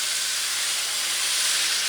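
Steady broadband hiss of steam rising after about a quarter cup of water hits a hot pan of carrots during a Thai vegetable stir fry, loud, continuous and close, with no talking.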